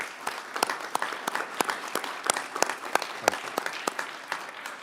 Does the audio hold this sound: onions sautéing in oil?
no